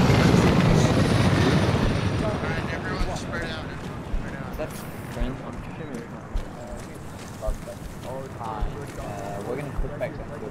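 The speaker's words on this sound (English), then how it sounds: "Oh, helicopter." A helicopter in the video game Arma 3 passes with a loud broadband rotor roar that gradually fades as it moves off, while voices talk over it.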